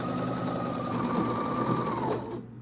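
A sewing machine runs in one steady, fast whirring burst at a home homestead sewing session, close and even throughout, then stops abruptly near the end.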